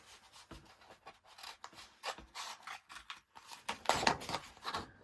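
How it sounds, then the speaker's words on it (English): Paper being trimmed with a pair of scissors for a scrapbook layout: a run of close, crisp snipping and rustling cuts with irregular rhythm, growing louder near the end, with no talking. "I'll probably just trim this with a pair of scissors."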